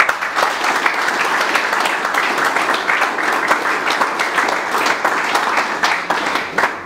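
An audience applauds the speaker's parents with steady, dense clapping that holds at full strength for several seconds, loud and close.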